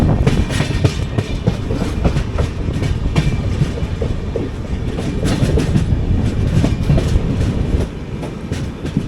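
The 16331 Mumbai CSMT - Trivandrum Weekly Express runs at speed with a steady, loud roar and rhythmic clickety-clack of wheels over rail joints, continuous throughout with no talk.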